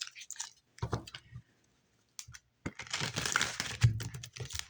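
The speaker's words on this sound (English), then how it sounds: "One more shuffle." Tarot cards are shuffled up close in quick bursts of soft flicking and riffling, broken by short silent pauses.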